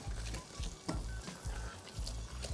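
Spoon stirring a chunky eggplant bolognese sauce in a pan, close and repeated scraping strokes over a soft sizzle, with no one talking.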